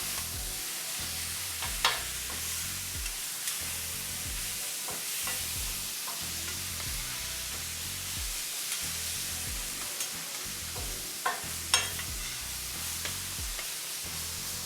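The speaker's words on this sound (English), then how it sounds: "And then we just start mixing it together." A cheesesteak filling of thinly chopped meat is stirred and tossed in a hot pan, with a steady close sizzle of frying under repeated scraping strokes and a few sharper clinks from the utensil.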